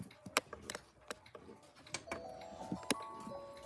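A Seiko melody wall clock from a home collection plays, giving scattered bright chime and tick-like strikes followed by sustained melodic tones near the end, fairly quiet and heard alone.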